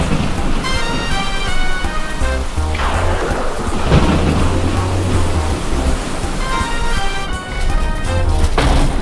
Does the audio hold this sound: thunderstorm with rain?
yes